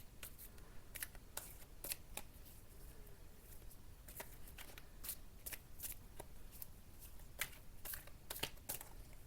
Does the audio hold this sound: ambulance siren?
no